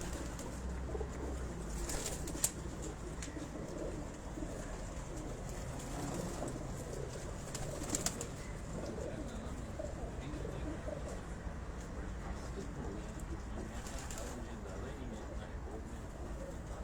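Racing pigeons from a breeder's loft, a faint, intermittent cooing over steady background noise, with a few brief louder bursts and a voice talking at times.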